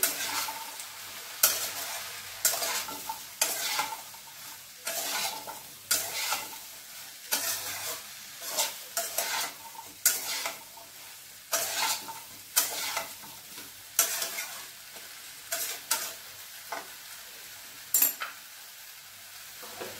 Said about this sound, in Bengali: লবণ হলুদ দিয়ে একটু নাড়িয়ে চাড়িয়ে নেব।